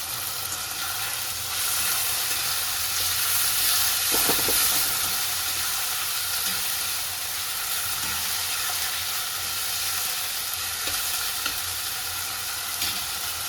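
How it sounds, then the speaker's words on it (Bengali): Ginger-garlic paste sizzles steadily as it fries in a hot pan, a loud continuous hiss with occasional stirring scrapes. "এরপরে আদা রসুন বাটাটা দিলাম"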